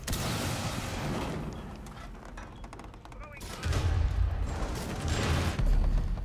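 Rapid bursts of gunfire from the tactical shooter Rainbow Six Siege, dense and loud with booming low thuds growing stronger toward the end, mixed with game effects and background chatter.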